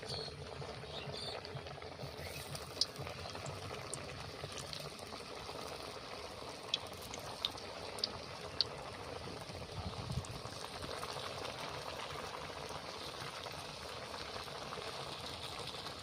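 Snacks frying slowly over a gentle flame in hot oil, giving a steady soft bubbling and crackle that runs the whole time, with a few brief sharper pops and no talk.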